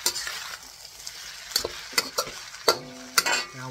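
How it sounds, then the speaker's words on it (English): Shrimp pad thai sautés in a pan with a hissing fry, punctuated by sharp, irregular utensil strikes and scrapes as it is tossed. "So we'll keep on sauteing it."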